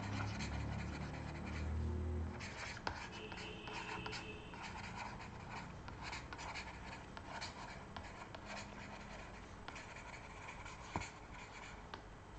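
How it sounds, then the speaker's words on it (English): Chalk or marker scratches and taps on a board during a physics lecture, with faint short strokes and pauses against a quiet room hum, heard close and with no talking. "Let me just write it here."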